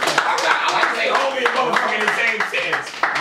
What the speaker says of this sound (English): I just want everybody to give a huge cave round of applause.